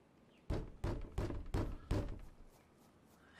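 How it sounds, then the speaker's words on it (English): Inside a video game, someone trapped in an enclosed space pounds on a door: five heavy, hollow thuds land at a steady, deliberate pace, fairly close and loud, followed by a quiet pause. "They're banging."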